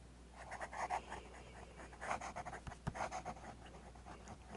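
A fine-nib fountain pen scratches quickly across paper in short, brisk strokes, soft and close, with a faint steady background hum.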